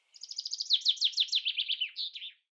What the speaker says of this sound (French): Entendez-vous le chant des oiseaux?